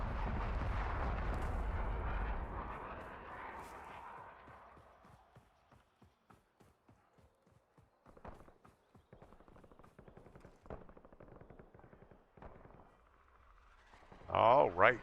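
Gunfire in the video game Warzone: a long roaring burst of heavy fire fades into a rapid string of distant, sharp shots, ending with a louder close crackle near the end.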